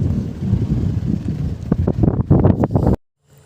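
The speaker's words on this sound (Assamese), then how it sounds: "ইয়াত বতাহটো এনি টাইম মাৰিয়ে থাকে" Strong wind gusts at Gurudongmar Lake, a high-altitude lake in North Sikkim, buffet the microphone in loud, rumbling bursts for about three seconds, then cut off abruptly into near silence.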